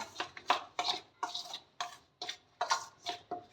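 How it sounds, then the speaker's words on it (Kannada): A spoon clacks and scrapes repeatedly against a bowl while spice mix is stirred, about a dozen short, fairly close knocks in an uneven rhythm with no voices. "ಇದನ್ನು ಫಸ್ಟ್ ಚೆನ್ನಾಗಿ ಮಿಕ್ಸ್ ಮಾಡ್ಕೊಳ್ಳಿ ಸ್ಪೂನ್ ಸಹಾಯದಿಂದ, ಈ ಥರ."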